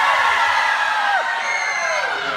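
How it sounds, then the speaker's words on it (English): A convention panel audience screams together on cue as if fleeing in terror, a loud, dense wall of high-pitched shrieks and yells that holds steady for a few seconds. "I want to hear your best girl scream."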